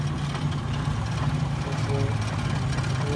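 A Toyota Kijang Jantan engine idling steadily at close range, a continuous low rumble with a constant hum and no breaks, running alone without speech.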